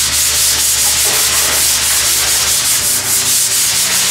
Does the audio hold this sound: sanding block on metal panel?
yes